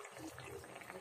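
A soft, steady bubbling and hiss of liquid at a low simmer in a pot on a stove, close by and quiet, lasting only a moment.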